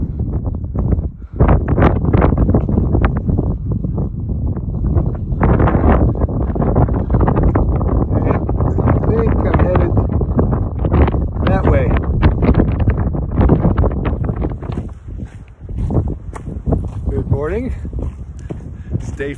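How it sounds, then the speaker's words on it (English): Strong wind on a Pacific Crest Trail mountain section buffets the microphone in a loud, constant roar with gusty surges, steady throughout and briefly dipping near the end, with a person talking over it. "It's really windy, but check out this view."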